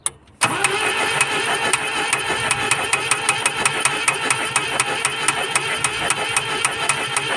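A Volvo 140 engine cranks and catches after a brief silence, then runs with a steady, rhythmic pulsing close by, loud and with no voices over it.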